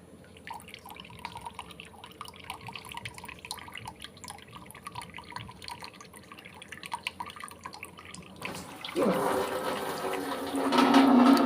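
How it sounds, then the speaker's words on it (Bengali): Water drips softly for several seconds, then pours and splashes steadily and grows louder while a home fish tank is being cleaned. "ওখান থেকে জল পড়বে"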